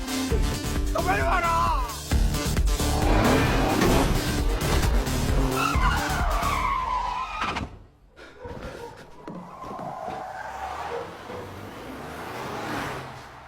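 Car tires squeal and skid through a sharp U-turn in a driving chase, loud and sustained for several seconds before cutting off, then quieter vehicle movement follows.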